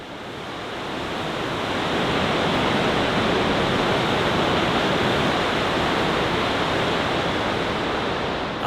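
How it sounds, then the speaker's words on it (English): Gullfoss waterfall in Iceland in winter, a broad two-tiered cascade dropping 32 meters into a gorge, roaring as a loud, steady, dense rush of water that swells slightly at the start and holds constant. "Gullfoss is worth a stop, as its width and the amount of water gushing down make for an impressive sight."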